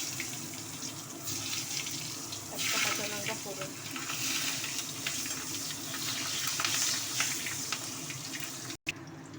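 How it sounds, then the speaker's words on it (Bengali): Potatoes frying in oil in a wok, giving a steady, even sizzle that runs through the whole stretch with faint kitchen clatter and a murmur of voice underneath. "আলুগুলোকে লাল লাল করে আমি ভেজে নিলাম"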